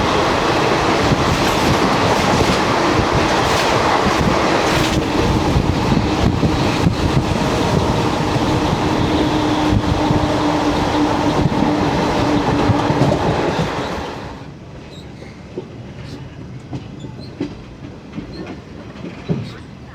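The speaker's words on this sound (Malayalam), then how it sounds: "ആ വരുന്ന ഇൻ്റർസിറ്റി എക്സ്പ്രസ് ആണ്. Guruvayur Thiruvananthapuram intercity express." The Guruvayur–Thiruvananthapuram Intercity Express passes close by with a loud, steady roar, rumbling wheels, clickety-clack and wind buffeting, then drops sharply to a quieter background near the end.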